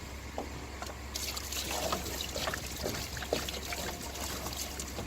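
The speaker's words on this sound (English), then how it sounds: "Give it a good pour. Sometimes it's gonna gurgle a bit" Windshield washer fluid trickles and gurgles steadily as it is poured into a car's reservoir, a continuous wet bubbling with irregular glugs, fairly close and with no voices.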